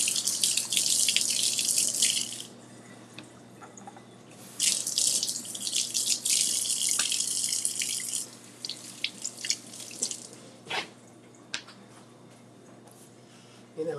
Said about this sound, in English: Even though I'm going to peel them, I'll just go ahead and rinse them off anyway